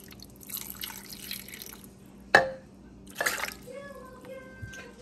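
Water with leftover juices is poured from a jar onto a pot roast in a cooking pot, with a sharp splash followed by a second pour and a few trickles.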